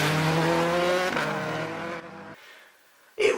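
A Ford Fiesta WRC rally car pulls away from the start line at Rally Sweden, a loud, close engine note that holds and then fades away over a couple of seconds, followed by a brief louder burst at the end.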